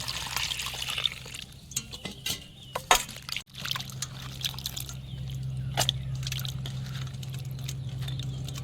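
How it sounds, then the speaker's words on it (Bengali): Bitter gourd (karela) is washed by hand in water, with irregular sloshing, squelching and splashing and a few knocks against the container, close by. "করলাটা এবার আমি ধোবো।"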